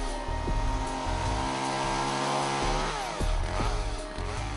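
An ECHO chainsaw runs close by, its engine droning steadily with a few quick throttle rises and falls over several seconds, with no talking.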